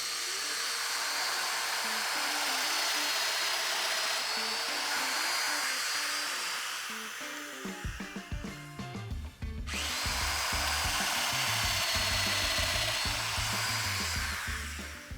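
Domino joiner plunging loose mortises into door parts, a loud high whine of the spinning cutter running steadily, dipping briefly mid-way as it bites into the wood before resuming.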